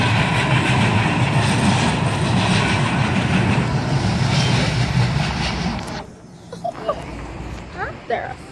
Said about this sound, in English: There's a train over there.